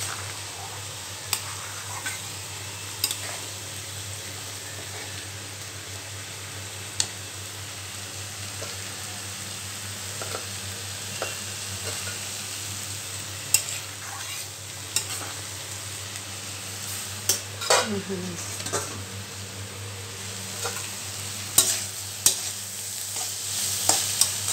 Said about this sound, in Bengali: আর এই যে মাগুর মাছ আলু কাঁচা কলা দিয়ে ঝোল করছি